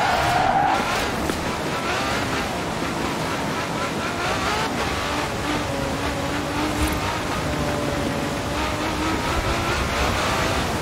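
Video game car drifting sideways across snow in Forza Horizon, a steady engine drone with tire scrub and skidding held throughout, loud and continuous with no pauses.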